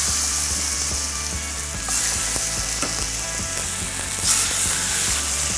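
Pork chops searing in a pan of olive oil give a loud, steady sizzle throughout, with small clicks and taps of the pan and utensils scattered through it.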